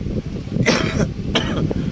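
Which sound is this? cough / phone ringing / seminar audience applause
cough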